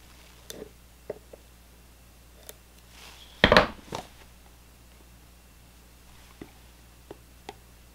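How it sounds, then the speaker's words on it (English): A knife slices open the plastic and cardboard packaging of a Pumpkinhead 4K collector's edition bundle, giving a quiet indoor scene of scattered small clicks and scrapes and one short louder tearing rip near the middle. "Let's just cut it with the knife."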